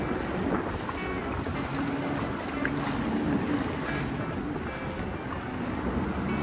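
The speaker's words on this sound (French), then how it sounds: "Les gars, je suis en mode pilote de jet ski." A jet ski ridden one-handed across choppy Corsican sea, with a steady broadband rush of engine, spray and wind buffeting the microphone, loud and continuous throughout.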